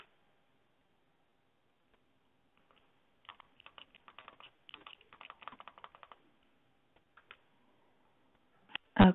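Quiet bursts of typing on a computer keyboard, soft rapid key clicks in short clusters against near silence, ending with a louder knock.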